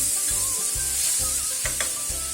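Butter sizzles steadily in a pan of frying trout, a close, constant hiss with a few soft clicks and no talking.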